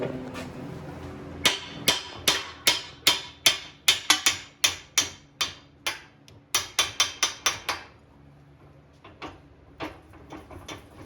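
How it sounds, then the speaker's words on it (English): Hammer blows smack a stuck lead mould part while lead is melted into ballast bars, landing as sharp metallic strikes in quick bursts of about twenty, close and loud, then a few lighter taps. "Smack it with a hammer."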